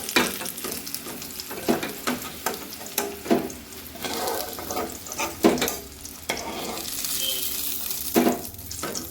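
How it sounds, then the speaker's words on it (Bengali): Potatoes frying in oil for a Bengali duck egg curry, a continuous sizzle broken by repeated stirring and scraping clinks from the pan, close and alone without talk. "এবার আমি আলুগুলোকেও ভেজে নেব"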